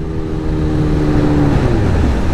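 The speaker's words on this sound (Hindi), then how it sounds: "Dead and exhaust note normal throttle देके सुनाता हूँ।" A Kawasaki H2 Carbon motorcycle's exhaust rises under throttle, a short loud revving note that climbs and falls in pitch, close by with no talk.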